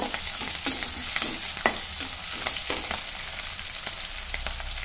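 Green chillies fry in oil in a pan with a steady sizzle, while a utensil scrapes and stirs them in sharp, irregular strokes.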